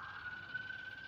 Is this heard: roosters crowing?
no